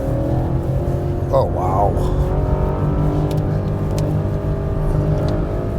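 A BMW M8 Competition Gran Coupe's engine howls steadily near 6,000 RPM on a bumpy winding road, a loud sustained drone from inside the cabin, with a brief spoken exclamation over it.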